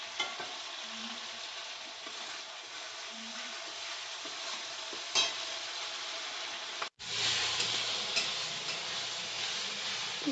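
Spices being stirred and fried in a pan for Bengali doi katla, a quiet continuous sizzle with soft scraping strokes and occasional ticks, with no voices and a brief cut partway through.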